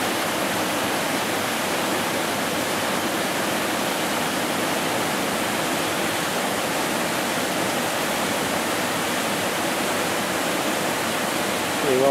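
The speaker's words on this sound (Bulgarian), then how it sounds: "Това е първия водопад." Steady rushing roar of the first Fotinski waterfall on the Fotinska river in the Rhodope mountains, heard close and loud, with no talking and a faint brief sound at the very end.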